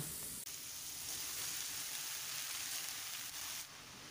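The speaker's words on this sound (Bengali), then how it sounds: "কালো জিরে দেওয়ার সাথে সাথেই লাউ দিয়ে দিলাম" Bottle gourd tossed into hot oil, the same oil used to fry lentil dumplings, right after black cumin (nigella) seeds, gives a steady, dense sizzle that holds throughout with no talking.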